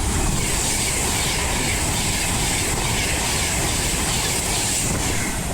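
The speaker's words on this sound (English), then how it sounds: "the next train to be coming through will be an Avanti West Coast Class 390 Pendolino, running from London Euston to Glasgow Central" An Avanti West Coast Class 390 Pendolino on the London Euston to Glasgow Central run passes through Acton Bridge on the West Coast Main Line, a loud, close, steady roar of wheels and rushing air lasting throughout, with no voices.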